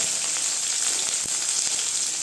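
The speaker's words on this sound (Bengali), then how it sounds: "এটার মধ্যে দিয়ে দিব লবণ, দিয়ে দিব হলুদ, দিয়ে হালকা একটু ভেজে নেব পেঁয়াজটাকে" Onion fries in a pan with salt and turmeric, a steady, close sizzle with faint stirring taps, no talk.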